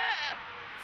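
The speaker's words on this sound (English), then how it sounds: "Captain summoned the goat." A summoned goat in The Legend of Dragoon lets out a short, wavering bleat that fades within a second, faint and alone.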